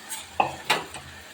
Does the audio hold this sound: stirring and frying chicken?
yes